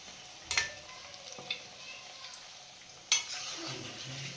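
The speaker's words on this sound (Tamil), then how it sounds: "வெறும் ஒரு 5 மினிட்ஸ் ஃப்ரை பண்ணால் போதும்." Boiled eggs frying in a pan for egg chilli: a soft, steady sizzle with a few spatula clinks and scrapes, one sharp knock near the end, moderately quiet with no talk.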